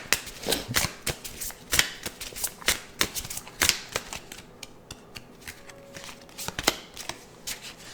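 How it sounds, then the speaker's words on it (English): Tarot cards are shuffled and drawn in a series of sharp, close riffling bursts and slaps, irregular and crisp, with no voice heard. "let's go ahead and get another card"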